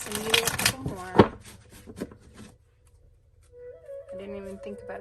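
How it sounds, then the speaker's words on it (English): Tarot cards shuffled by hand, a brief burst of quick riffling flutter at the start followed by a few softer taps, with a voice speaking over and after it. "I just started shuffling, so I must have needed some more shuffles here."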